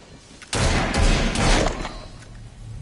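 Gunfire erupts in Assassin's Creed Syndicate, a sudden loud blast followed by a dense run of overlapping shots and booms lasting a couple of seconds, then tapering into rumbling background game noise.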